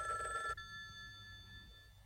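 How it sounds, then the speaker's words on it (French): An old-fashioned telephone bell rings briefly indoors in a 1987 French comedy film, a short electronic trill that cuts off after half a second, leaving quiet room tone. "Téléphone, c'est le docteur Bondurant."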